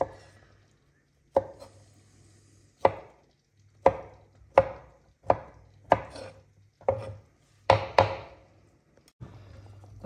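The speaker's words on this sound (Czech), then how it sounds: "teď si takhle nakrájím tu vařenou brokolici" Cooked broccoli being chopped with a knife on a board: about nine firm, close thunks at irregular intervals, some falling in quick pairs, with quiet gaps and a low hum between them.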